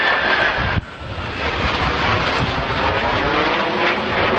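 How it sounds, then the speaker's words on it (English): An F-5 jet flying aerial maneuvers over Santa Maria gives a steady, loud engine roar with wind rush, broken by a brief sharp jolt near the start before the drone carries on unbroken. "An F-5 jet was soaring over Santa Maria, caught on camera as it performed impressive aerial maneuvers."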